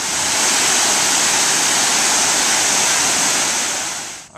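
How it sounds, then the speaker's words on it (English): A waterfall pours steadily into a pond at Longwood Gardens, a loud, continuous broadband rush of falling water with no pauses, heard close up and alone. "And then the waterfall here into a beautiful pond setting."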